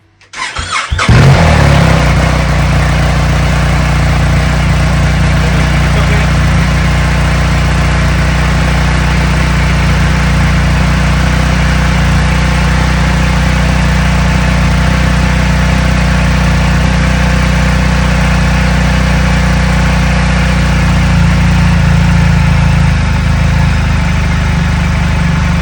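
A motorcycle engine cranks and fires, then settles into a steady, loud, close idle that runs unbroken for the rest of the clip, with no talking.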